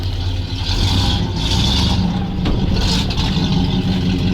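A ZIL-131 truck engine runs steadily at idle, a loud, rough low rumble with slight surges, close by and without voices.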